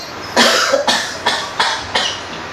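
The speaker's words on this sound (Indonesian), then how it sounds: "sehingga salah satu akibatnya orang itu terbatuk-batuk" Five loud coughs in a row, close by, evenly spaced with short pauses between them.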